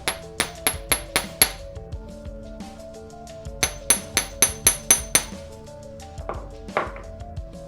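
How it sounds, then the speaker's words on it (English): Small metal jump ring links for a chain necklace are struck with a little hammer in two quick bursts of about six sharp, ringing taps each, followed by a few scattered lighter taps. "Give it another little hammer"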